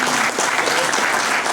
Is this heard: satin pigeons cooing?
no